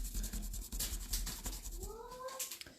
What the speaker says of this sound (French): Oh là là là, le petit chat.